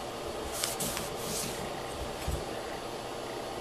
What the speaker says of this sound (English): I'm going to use a Scotch pad and clean off the surface